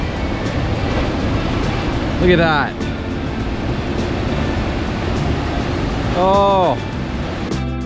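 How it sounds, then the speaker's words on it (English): Ocean waves breaking at a surf spot in Big Sur, a steady broad wash of surf under wind, with a person briefly talking and whistling-like tonal sweeps twice over the constant roar. "More waves over there."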